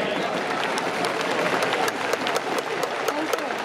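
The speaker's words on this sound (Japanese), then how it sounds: "皆さんどうぞ大きな拍手でお迎えください" Big crowd applause at a Tokyo Yakult Swallows baseball game as a sponsor representative is welcomed for the ceremonial first pitch, a dense roar of clapping filling the stadium, loud and continuous, with some crowd noise mixed in.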